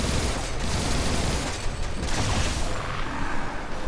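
Turret gunfire in the video game Warframe, a dense sustained burst of rapid shots and booms that stays loud for the whole few seconds with no talk.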